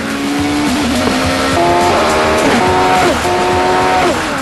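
Caparo T1 sports car under hard acceleration: a loud, close engine wail that climbs repeatedly in pitch and drops back at each gear change, continuous and with no voices.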